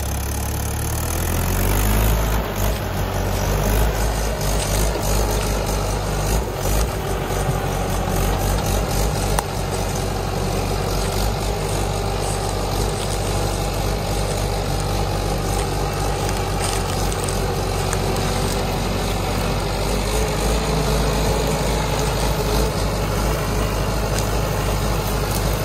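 A Mahindra 575 tractor engine runs on a rural road, a steady, heavy low-pitched drone with a constant rumble, close and loud throughout, with no talk over it.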